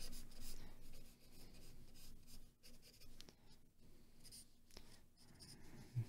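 A pencil scratches steadily across paper while sketching a face, in continuous close strokes with small pauses, quiet and alone.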